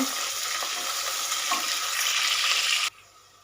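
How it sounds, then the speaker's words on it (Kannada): Onions and chana dal frying in a pan, a dense, steady sizzle with light stirring clicks that stops abruptly near the end, leaving quiet. "ಈರುಳ್ಳಿ ಕೂಡ ಚೆನ್ನಾಗಿ ಹುರ್ಕೋಬೇಕು"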